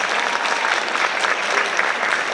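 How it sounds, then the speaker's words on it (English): Audience applause at the One District Under a Groove 2017 event, a dense, steady wash of many hands clapping at close range for the whole stretch, with no talking over it. "That deserves a round of applause because it's for such a great cause."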